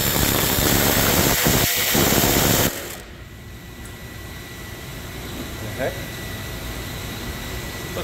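A power driver fitted with a Ryobi impact bit whirs loudly for a few seconds driving a screw, then stops abruptly, leaving a quiet room with faint mechanical noises while someone talks.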